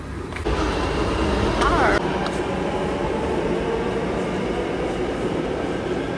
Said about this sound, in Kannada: ಅದು ಯೆಲ್ಲೋ ಕಲರ್ ಮೆಟ್ರೋ